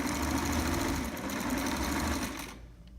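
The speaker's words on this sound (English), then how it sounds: "now we're gonna do a basting stitch to hold it all in place before we sew the lining into it" A sewing machine runs a basting stitch on a trapper hat with its lining, a fast, steady mechanical whir that slows and stops near the end, close and without talk.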